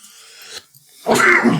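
A single sneeze from a person at a cannabis tasting, starting with a faint breathy lead-in and then breaking into a loud, sharp burst that ends the moment.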